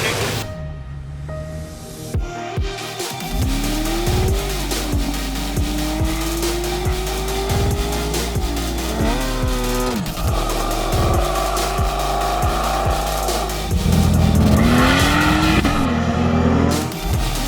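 Race cars in a half-mile race on an old airstrip in California, with engines revving and rising in pitch, cars passing repeatedly and loud continuous roaring throughout.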